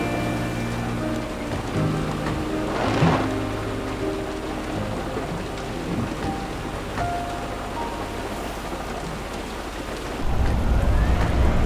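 Steady rain pours during a storm, a dense even hiss with a low rumble swelling near the end, like distant thunder.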